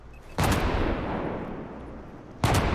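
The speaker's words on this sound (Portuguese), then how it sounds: "a granada funciona bem no jogo" In the Sniper Ghost Warrior Contracts video game, a loud, close grenade blast bursts out and rumbles away, and a second sharp blast follows about two seconds later.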